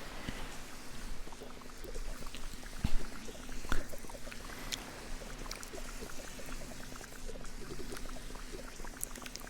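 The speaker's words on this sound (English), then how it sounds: "I'm multitasking. Gathering water as I do this." Water is gathered in the Fresh Start cleaning simulator game, a steady pouring trickle running continuously for nearly ten seconds with scattered small clicks and splashes layered on top.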